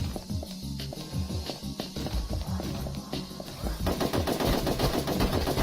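Rapid bursts of gunfire from a gun in the Ghost in the Shell: Stand Alone Complex video game, repeated shots layered over game music, getting denser and more sustained toward the end.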